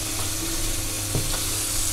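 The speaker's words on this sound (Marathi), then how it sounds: "जरा फोडणी चांगली भाजू दे." Spice tempering sizzles in hot oil for a fish curry, a dense close crackle with a quick stir scrape near the middle, heard without any voices.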